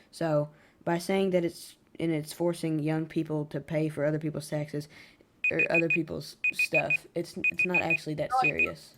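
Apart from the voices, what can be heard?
electronic beeping alarm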